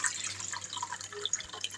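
Boiled garlic water strained into a spray bottle, with a close trickle of liquid and scattered drips over a faint steady background hum.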